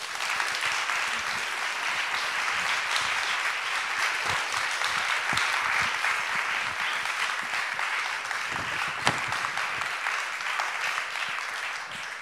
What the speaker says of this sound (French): je vous suggère d'accueillir la présidente d'honneur de cette 11e édition du Livre sur les quais avec vos applaudissements